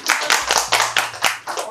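Studio audience at a dating game show clapping in several short bursts, a live, roomy sound with no speech over it.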